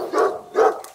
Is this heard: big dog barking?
yes